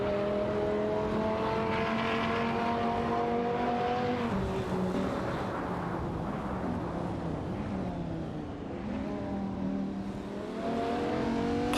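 Racing engines of a Shelby Series 1 and a Dodge Viper GTS ACR in a video game drone and rise in pitch through gear changes, continuous and fairly loud with no voices.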